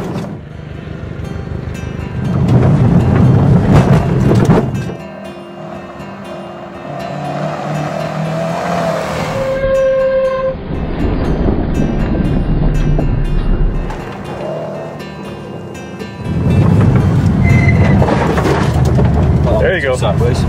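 A 2011 Subaru STI with its 305-horsepower turbo engine drives sideways along a rough rally stage, the engine roaring loudly in surges and dropping back, with tire and wind noise throughout and a voice talking over it.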